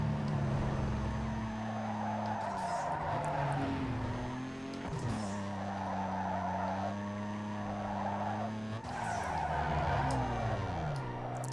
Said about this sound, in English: my car just sped up so much